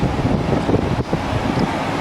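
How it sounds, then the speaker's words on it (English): Steady wind buffeting the microphone, a constant low rumbling roar with gusty fluctuations throughout. "It's been a windy day, huh?"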